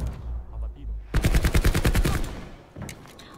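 Rapid automatic gunfire from a Call of Duty: Black Ops 4 multiplayer match, a loud burst of closely spaced shots over a second and a half, followed by a few fainter shots.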